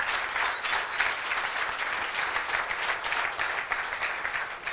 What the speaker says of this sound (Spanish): un aplauso para la región andina